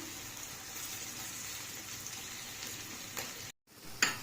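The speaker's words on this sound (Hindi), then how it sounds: "फिर इसमें प्याज डालेंगे, प्याज को 1-2 मिनट हम फ्राई करेंगे।" Chopped onions sizzle steadily in hot oil for paneer chilli, a continuous close frying hiss that cuts out briefly near the end before a pan clank.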